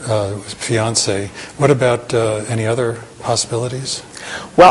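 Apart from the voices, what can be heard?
No distinct noise like a dog, phone or traffic.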